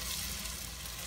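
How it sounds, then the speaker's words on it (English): Chicken pieces fry in a pan of oil and melted butter, giving a faint, steady, close sizzle that runs on without a break. "once the butter is melted, we can start frying."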